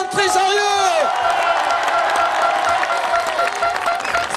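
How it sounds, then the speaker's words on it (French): An outdoor crowd at a motocross podium ceremony in Morizès claps and cheers loudly and continuously, with whoops and an amplified announcer's voice over the applause. "J'appelle sous un tonnerre d'applaudissements Stéphane Trésarrieu."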